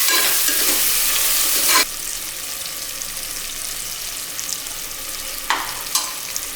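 Tomatoes and green chillies sauté in a pan with a loud, steady sizzle that suddenly drops to a quieter hiss, with a couple of brief stirring scrapes near the end.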